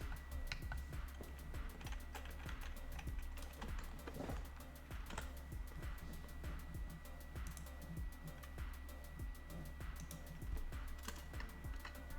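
Steady typing on a computer keyboard, close and fairly quiet, with rapid uneven key clicks continuing throughout over a low background hum.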